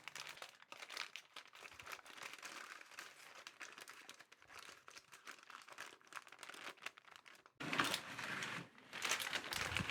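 Parchment paper with a foil backing crinkled and crumpled close up while lining a cake tin for a traditional Christmas cake, a continuous papery rustle with a sharper, louder burst of crinkling near the end.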